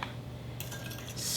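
A spoon stirs a Jell-O mixture in a bowl, with quick light clinks and scraping that grow a little louder toward the end.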